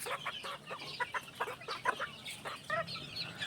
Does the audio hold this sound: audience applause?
no